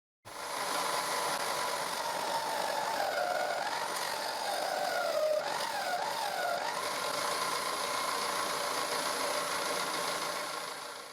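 A homemade drill-powered disc sander runs continuously with a steady, buzzing motor whine. Its pitch sags and recovers in a few dips midway, as if under load, and no one speaks.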